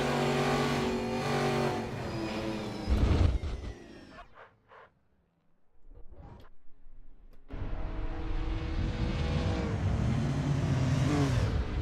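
Historic race cars lapping a track in the Assetto Corsa racing game, engines roaring and revving close by, fading to near silence mid-way with brief passes, then a loud engine drone returning and holding steady.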